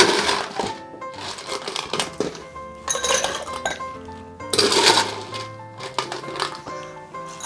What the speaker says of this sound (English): So let's go ahead and get some ice.